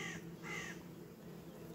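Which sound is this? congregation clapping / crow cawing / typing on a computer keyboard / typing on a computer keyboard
crow cawing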